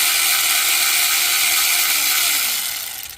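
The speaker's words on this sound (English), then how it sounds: "having this electric ratchet in the back here is gonna make easy work" Electric ratchet spinning out valve cover bolts on a 2007-2010 Ford Edge during water pump replacement, a loud steady mechanical whir that runs about three seconds and then winds down at the end.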